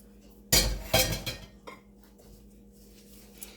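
Roasted fenugreek seeds and grated coconut are tipped into a pan with two loud clattering bursts and a few softer scrapes of a spoon against metal, close up, then a quiet stretch.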